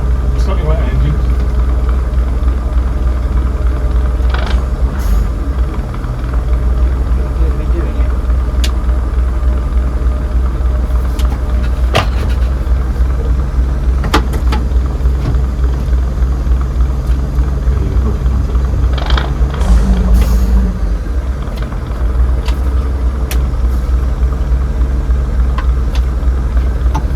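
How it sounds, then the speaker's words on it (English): Class 117 diesel multiple unit 51412, started for the first time in five years, with a deep engine rumble running steadily throughout under frequent talk from people nearby. "Right, start your right engine."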